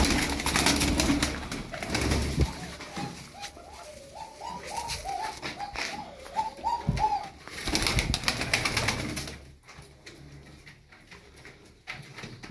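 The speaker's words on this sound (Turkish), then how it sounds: "Onun yerine bir tane buradan kuş atalım." Tumbler pigeons coo in a loft, a run of soft repeated coos in the middle, with wing flaps and handling noises around them and a faint voice nearby.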